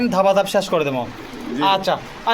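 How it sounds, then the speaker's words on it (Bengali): Pigeons, including Indian Lotan birds, coo at a pigeon farm in Bogura. The soft cooing sits under close, loud talk between people. "মেলা কবুতর আছে আজকে"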